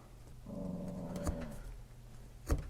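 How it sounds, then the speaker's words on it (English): A small chihuahua growls low and rumbling for about a second, close and fairly quiet, followed by a couple of sharp knocks. "Pay no attention to the guard dog,"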